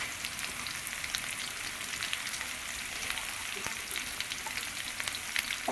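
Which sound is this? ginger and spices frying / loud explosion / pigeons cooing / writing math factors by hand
ginger and spices frying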